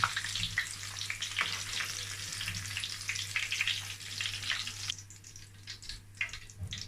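Beef pieces fry golden brown in hot oil with a loud, continuous crackling sizzle for about five seconds. The sizzle then thins and quiets for the last couple of seconds. No one speaks.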